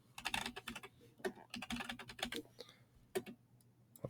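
Rapid keystrokes on a computer keyboard come in close, quiet bursts with short pauses between typed phrases, and no voices are heard.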